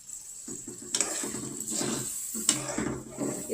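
Yogurt stirred into a frying meat and potato curry in a pot, with steady sizzling and spoon scrapes against the pan, a couple of sharper clinks standing out.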